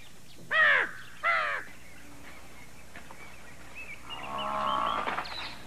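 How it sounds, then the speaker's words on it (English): A crow in the morning at Sasan Gir National Park gives two loud, close caws, followed after a pause by a fainter, drawn-out lowing call from livestock. "The crow is waiting in vain in the morning light."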